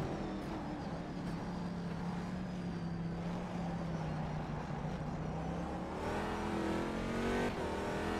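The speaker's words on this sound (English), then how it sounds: "Nice little bit of wheel spin there on turn exit" Corvette C6.R GT2 race car in the rFactor 2 racing game spinning its wheels on a turn exit, a steady loud engine drone with rising harmonic pitch lines near the end, continuous throughout with no talk.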